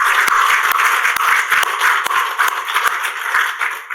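A church congregation at a Sunday worship service applauds warmly, a dense, steady wash of many hands clapping at once, loud and sustained with no voices over it.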